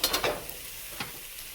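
Garlic and ginger paste hits a pan of frying onions with a short burst of sizzling and stirring, loudest at first and then settling into a steady, close hiss with no talk.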